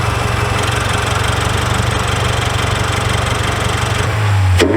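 A second-generation Toyota GR86 or Subaru BRZ engine idles steadily and close, a fine rapid ticking running through its low hum, before a brief rev-like shift at the end.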